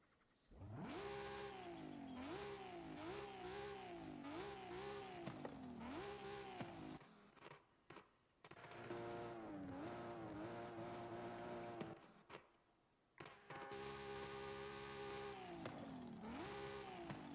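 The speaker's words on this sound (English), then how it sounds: "That sounds like the 2JZ engine." A car engine in Forza Horizon 5, compared to a Toyota 2JZ, revs hard through repeated rising pulls and gear shifts in three loud bursts separated by brief quiet gaps, with no talking.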